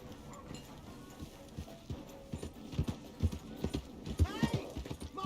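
Horse hooves clip-clop at a steady walking rhythm in the Red Dead Redemption 2 video game, close and fairly loud, with a brief whinny near the end over a faint ambient background.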